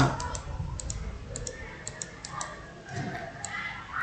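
Computer mouse clicks while working in PowerPoint: a series of light, sharp clicks at uneven intervals, close by, over a faint room hush.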